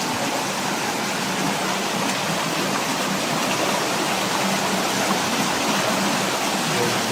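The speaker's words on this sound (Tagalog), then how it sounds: "Umaagos yung tubig guys" Water flowing in a stream or small waterfall outdoors, a steady, even rushing roar filling the whole span with no breaks and no talk over it.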